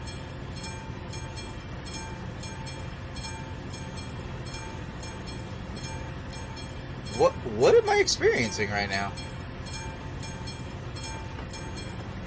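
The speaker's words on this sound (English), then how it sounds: "Is that train coming to a stop?" A train in Euro Truck Simulator 2 rolls past with a steady low rumble and repetitive clatter, then a brief louder burst of screeching and hissing near the end as it slows to a stop, with someone talking over it.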